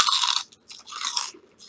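Crunchy lime-flavored rice snacks, somewhere between crunchy and soft, are chewed close to the mic in two loud bursts of crisp crunching separated by a brief pause, with no talking.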